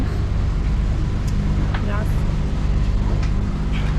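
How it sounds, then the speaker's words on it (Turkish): A steady low engine drone fills the cabin of a Bolt 37 sailboat, continuous and fairly loud, with a few faint squeaks over it and people talking throughout. "İçeride biraz motor sesi var"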